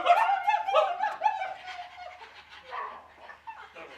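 A person on stage at an improv show imitates a dog with a rapid string of yapping barks, loud at first and gradually trailing off into softer woofs.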